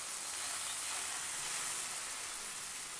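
Rava dosa batter hits a hot griddle and sizzles as a steady, even hiss, fairly quiet and unbroken with no talking over it.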